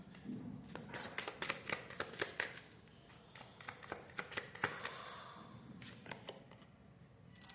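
Tarot cards are shuffled by hand in quick, crisp bursts of riffling flicks, close and fairly quiet, repeating in several runs with short pauses between them.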